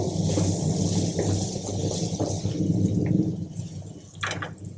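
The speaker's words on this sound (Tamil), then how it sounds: "புளி தண்ணியை ஊற்றிக்கலாம்." Tamarind water poured into a cooking pot of appalam kuzhambu with papad pieces and chilli powder, a steady watery rush filling the pot at close range, with faint background noise and no talking.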